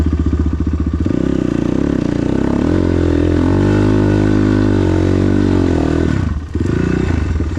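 A Geon GNS 300R enduro motorcycle on slippery terrain, its engine loud and close, revving and labouring with pitch rising and falling, then a brief dip before it roars again.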